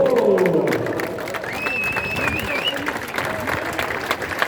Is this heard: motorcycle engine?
no